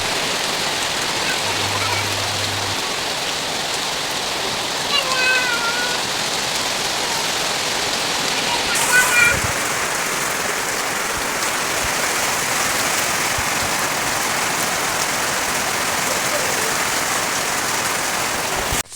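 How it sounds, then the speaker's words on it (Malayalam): Heavy rain pours down around a house in Kerala, a dense, constant wash of drops that stays steady from start to finish with only faint background movement. "അപ്പോഴേക്കും നല്ല മഴയും വന്നിട്ട്"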